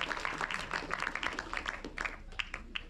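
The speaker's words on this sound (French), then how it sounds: "Je pense qu'on peut l'applaudir." An audience applauds with scattered, fairly faint clapping that thins out toward the end, heard at a distance in a hall after a talk, with no clear speech over it.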